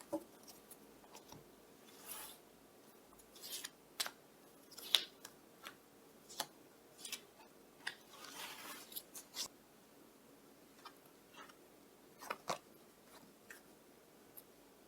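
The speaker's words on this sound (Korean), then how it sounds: "배우자분을 어떻게 만나게 될지 한번 타로 카드로 뽑아보도록 하겠습니다" Tarot cards being shuffled and drawn, heard as faint, scattered paper flicks, slides and soft taps spread unevenly over a quiet background.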